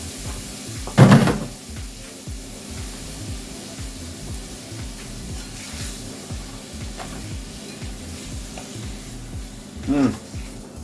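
Onions sauté in a pan as the base for smoky bacon mac and cheese, giving a continuous low sizzle with stirring scrapes and two sharp knocks, one near the start and one near the end.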